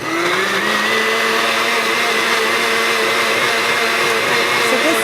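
A blender runs at high speed liquefying a breakfast berry fruit smoothie, a loud, steady whirring motor drone with a shifting pitch, close and continuous throughout with no talking.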